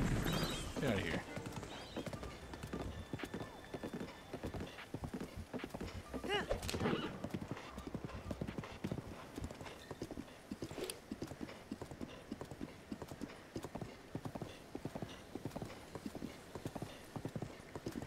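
Horse hooves clip-clopping in the video game Breath of the Wild, a long continuous run of fast, even hoofbeats with a neigh early on and ambient game sound behind.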